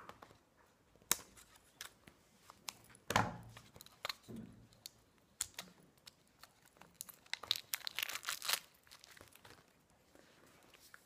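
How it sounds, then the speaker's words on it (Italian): Lip gloss blind bag packaging being opened by hand, with sharp crinkling and tearing bursts and a few snips at scattered moments, close and loud against an otherwise quiet background. "Adesso apriamo questo che è il lucidalabbra."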